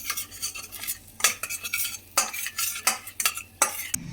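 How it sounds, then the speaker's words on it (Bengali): Red chilli powder is stirred into hot oil in a kitchen pan, with repeated scraping strokes of a utensil against the metal over a soft sizzle, close and rhythmic, with no voices. "আমি শুকনো লঙ্কার রেড চিলি পাউডার যেটা, সেই গুঁড়োটা তেলে দিয়ে নিলাম।"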